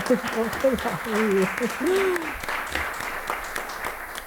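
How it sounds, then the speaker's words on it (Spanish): Clapping for a writer at a Spanish literary event, moderate applause running under a speaking voice that talks over the first half. "Te aplaudo."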